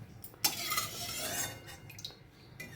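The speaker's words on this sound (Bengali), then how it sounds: "হাতা দিয়ে ছেঁকে তুলে নেব।" A ladle scrapes and scoops through a pot of water while preparing a vegetarian palak paneer dish, giving a few metallic clinks and a stirring swish up close.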